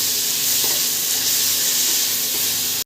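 Pre-boiled, squeezed-dry leafy greens hit a hot pan with a loud, steady broadband sizzle and frying hiss that runs unbroken for a few seconds, with no voices.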